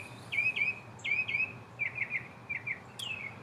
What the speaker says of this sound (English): But the birds still sing.